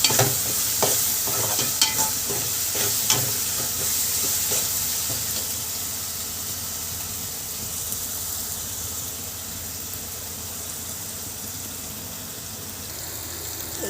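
Curry leaves sizzle and fry in hot oil for egg curry, a steady close crackle with stirring scrapes and a few sharper pops early on, no talk.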